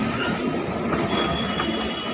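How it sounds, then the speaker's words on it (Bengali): A train passes close by, a loud continuous rumble of rolling cars with wheel clatter and a faint high squeal, no talking. "ট্রেন পাস হচ্ছে তাই দাঁড়িয়ে আছি, ওপারটায় যেতে হবে।"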